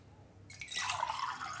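Water poured into pani puri water, starting after a half-second of near silence as a bright splashing trickle that settles into a steady gentle stream, close and quiet.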